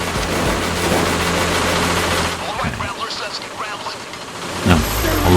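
Rapid automatic gunfire in Payday 2 during a bank heist, a dense rattling stream that breaks off midway, leaving quieter scattered sounds and voice-like noises before a sharp burst near the end.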